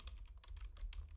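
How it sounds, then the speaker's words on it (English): Quick, irregular keystrokes clatter on a computer keyboard as a command is entered in Windows PowerShell, close and fairly soft, with no talking. "Type the command"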